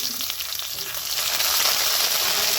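A spoonful of ginger paste drops into hot oil with tempering spices, setting off a bright, hissing sizzle that grows louder and fuller over a couple of seconds and carries on unbroken, with no voices.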